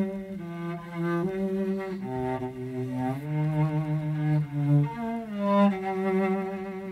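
Bowed string instrument playing a slow, sustained melody with a wide, lazy vibrato that makes each held note waver; close, steady and fairly loud throughout, with no voices.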